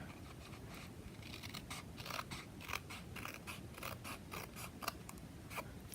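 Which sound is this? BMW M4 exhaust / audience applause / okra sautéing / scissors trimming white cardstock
scissors trimming white cardstock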